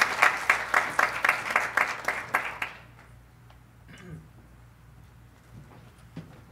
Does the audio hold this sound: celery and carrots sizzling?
no